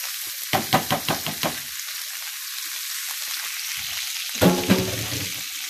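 Green beans tumble into a hot pan for bacon-fried green beans, giving a quick run of clattering knocks followed by a steady hiss, then a second burst of noisy sizzle near the end.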